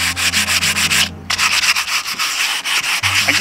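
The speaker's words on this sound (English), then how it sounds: "So I'm going to do a little bit of sanding on this one." Steady, rhythmic scratchy sanding strokes rasp against a rough resin-coated surface, loud and close, with one brief pause partway through.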